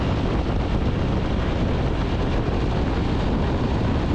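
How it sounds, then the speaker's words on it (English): Wind blasts across the microphone while riding a Ducati DesertX motorcycle at speed, a dense continuous roar with steady buffeting and no pauses. "At this point, the wind blast starts to get quite hectic."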